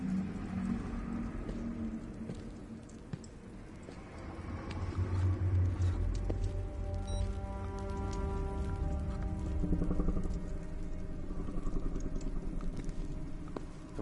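In the video game Solus Project, countless spider legs skitter in a dense, continuous crackle, like rain pattering on a surface. A low background rumble sits underneath, and no one speaks.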